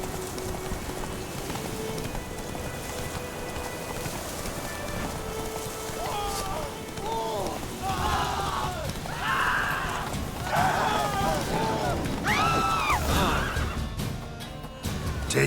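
A horse in The Witcher 3 video game gallops with steady clip-clop hoofbeats, then whinnies and neighs several times in the second half, close and loud over a constant rain-and-thunder ambience.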